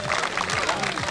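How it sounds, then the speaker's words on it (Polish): Crowd applause at a speedway bicycle race in Toruń, a steady wash of clapping with speech layered over it throughout. "Wielkie brawa."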